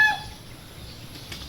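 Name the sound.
pet chickens clucking on a farm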